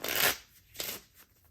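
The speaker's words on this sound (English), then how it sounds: "one more shuffle for good measure" A deck of cards being shuffled: a loud riffling burst, then a second shorter riffle and a faint third, close up with no talking.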